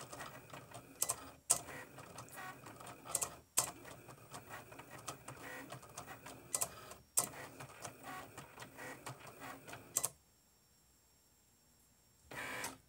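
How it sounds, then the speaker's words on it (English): A Cricut machine cuts white heat transfer vinyl with a steady, quiet mechanical whir and ticking, broken by several sharp clicks and brief stops, then goes nearly silent before a final short burst. "that is the cut for the white Southwest Vinyl Supply HTV"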